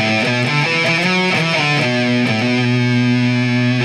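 A distorted electric guitar plays a short chordal riff through an amp with presence turned all the way down, the tone sounding darker and less cutting, loud and close with no talking.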